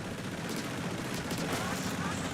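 The Crab Tank's rapid-fire attack in Splatoon 3 sounds as a dense, continuous stream of quick shots, loud and unbroken.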